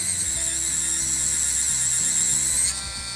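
A small Action 3D pen hums steadily with a high, whining motor as it pushes out filament, close and continuous, then drops to a slightly quieter tone near the end.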